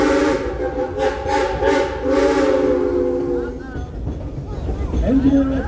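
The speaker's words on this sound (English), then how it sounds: "Why are you blowing that whistle, son?" A steam train's whistle blows in long, sustained tones over the first few seconds, steady and fairly loud, then fades out as voices carry on.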